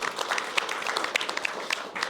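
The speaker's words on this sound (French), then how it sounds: "on peut en profiter d'ailleurs pour applaudir le public aussi" Audience applause at a French talk show taping, a short burst of dense, steady clapping from a seated crowd, moderately loud and without speech.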